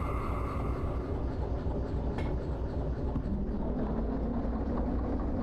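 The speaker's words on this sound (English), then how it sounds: "Let me just start our locomotive." A diesel locomotive in the Derail Valley railway simulator powers up with a steady, loud low rumble that stays even throughout, a brief clank near the middle, no voices.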